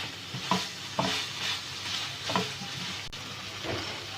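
Tawa chicken with coriander and mint is stirred on a hot griddle, sizzling steadily while a spatula scrapes and clacks against the pan in several distinct strokes, close up and with no talking.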